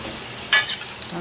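A brief scraping stir of spices, including Kashmiri chilli, into bottle gourd in a frying pan: two quick close strokes over a faint, steady kitchen background.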